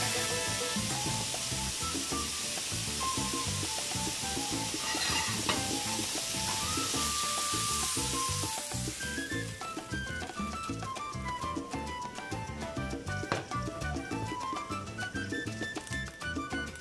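Pork tenderloin searing in a frying pan, a loud continuous sizzle with stirring and turning noises throughout, the hiss easing slightly partway through.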